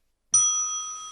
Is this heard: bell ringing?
yes